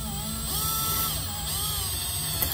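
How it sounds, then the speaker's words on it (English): A power drill whirs steadily at close range for a couple of seconds, boring a hole to mount a boat seat, its motor pitch rising and dipping slightly as it bores in. "I will drill one hole."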